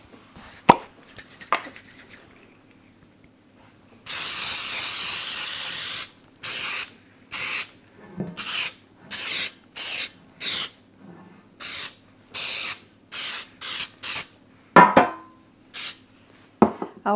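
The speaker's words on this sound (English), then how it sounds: "I always hold my breath when I spray that because it's pretty powdery from that flour that's in it." Flour-based baking spray hisses onto a brownie pan for chocolate zucchini brownies, first in one long two-second burst, then in a rapid series of short close spurts separated by brief silences.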